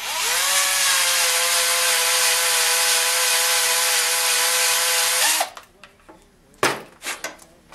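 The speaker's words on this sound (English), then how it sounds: "I got the bore drilled out, and it's not very deep" A power drill boring into the wood stock of a musket or club butt fowler build, a loud steady whine held for about five seconds, then winding down into scattered knocks and handling noises.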